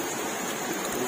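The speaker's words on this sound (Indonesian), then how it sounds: "Dan kebetulan ini air begitu deras sekali dan bertambah besar." Floodwater from an overflowing river rushes past in a loud, steady hiss and roar, close by and unbroken.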